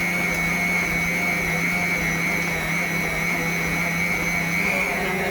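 An electric mixer runs on high, beating butter for a chocolate fudge sponge cake, a loud steady whirring drone that holds unbroken throughout with no talk.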